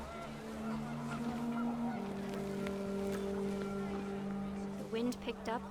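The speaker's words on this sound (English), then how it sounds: "wind picked up, and panicked geese appeared and quickly went" Panicked geese honk in a brief cluster near the end of a windy scene in the video game What Remains of Edith Finch, under a steady low rumble with a voice narrating throughout.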